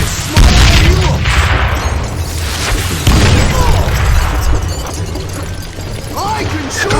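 Dynamite blasts in the Western shooter Call of Juarez: Gunslinger, deep booming explosions with rumbling debris, loud and close, the strongest hits landing near the start and around three seconds, with a gruff voice shouting through the din.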